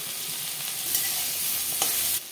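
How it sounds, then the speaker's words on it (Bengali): Cut vegetables stirred in a pan of hot oil tempered with dried red chilli and panch phoron, a steady close sizzle with soft scraping strokes running throughout, no talk. "সবজিটাকে ভালো করে নেড়ে চেড়ে নেব"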